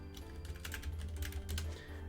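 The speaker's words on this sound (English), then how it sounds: "this is where I decide to type" Quick, steady typing on a computer keyboard with a rapid patter of key clicks, fairly close and moderately quiet over a low background hum.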